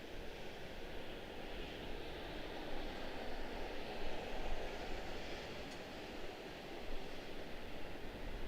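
An Air France airliner on approach to Washington Dulles airport, its engines a steady, distant broadband roar that holds evenly with slight swells throughout.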